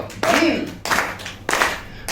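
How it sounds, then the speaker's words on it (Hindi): Four evenly spaced hand claps keep a steady one-two-three-four beat over a sung Hindi melody, with voices present throughout. "ताली लेकिन ताल होनी चाहिए। कैसे? 1 2 3 4।"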